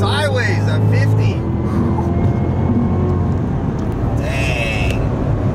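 A sports car in track mode accelerates hard, its engine droning loudly from inside the cabin and rising in pitch through the gears, with a person speaking over it.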